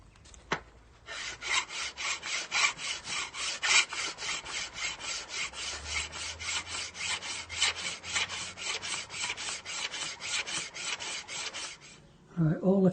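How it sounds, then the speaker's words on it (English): Steady rhythmic rasping of a hand file stroking back and forth across a metal sword blade, dozens of even strokes in a row, close and loud, no talking. "all the finishing now is going to be by hand. Filing and sanding and polishing."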